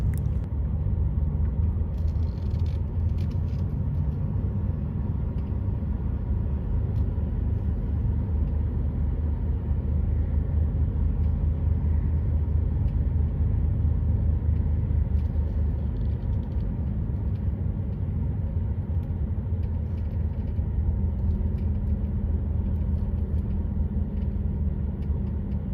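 A car drives slowly around the streets of Niort, France, searching for a parking space; a steady low engine and road rumble from inside the cabin, continuous throughout with no talk.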